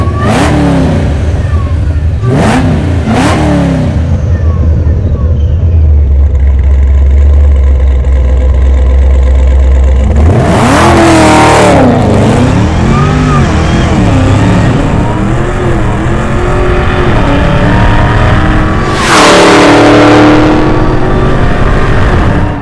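A car accelerates hard on a race track, engine close and very loud with several rising revs and gear changes, a deep idle rumble between pulls, and no talk.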